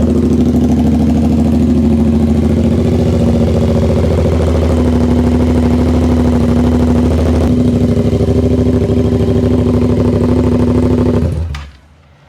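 A motorcycle exhaust idles loudly and steadily right up close after a cold start, a low throbbing rumble that cuts off abruptly at the end.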